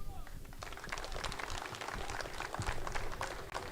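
An outdoor audience applauds at the inauguration of a rural sports league, a dense, fairly faint wash of clapping that builds after the first half-second, with some crowd voices mixed in.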